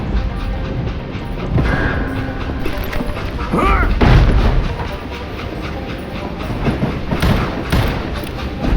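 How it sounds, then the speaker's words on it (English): Train rumbling along the tracks in the Western shooter Call of Juarez: Gunslinger, a steady mechanical clatter and low rumble that persists throughout, with occasional heavier booms and a voice speaking over it at moments. "It was then that Jesse detached the express car from the rest of the damn train."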